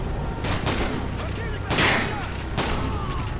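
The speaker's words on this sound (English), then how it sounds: "We have a shotgun, which is interesting." Shotgun blasts from Call of Duty: Modern Warfare 2 Spec Ops, several loud booming shots spaced about a second apart over steady game noise and battle ambience.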